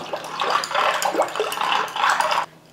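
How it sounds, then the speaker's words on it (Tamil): A wooden churner whisked through buttermilk thinned with water, giving continuous loud sloshing and splashing liquid sounds up close that stop abruptly near the end. "இந்த மாதிரி மோர் கடையிற மத்து ஒன்று எடுத்துகிட்டு நம்ம தண்ணி சேர்த்ததுக்கப்புறம் கட்டி இல்லாமல் நல்லா கடைஞ்சிக்கலாம்."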